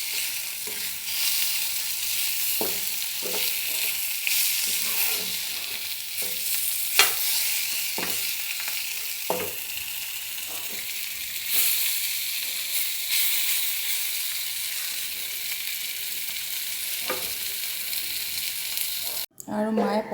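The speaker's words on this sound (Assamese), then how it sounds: "ভালদৰে ৰঙচুৱা হ'ব লাগে ভাজি।" Vegetables sizzle steadily as they fry in a pan until browned, with the crackle loud and close and broken by intermittent scrapes and clicks of stirring.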